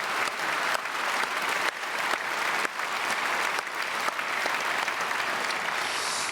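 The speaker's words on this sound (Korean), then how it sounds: "감사 박수로 축복하겠습니다." A large church congregation at a special early-morning service gives sustained, dense applause of thanks, loud and continuous, with brief dips in level along the way.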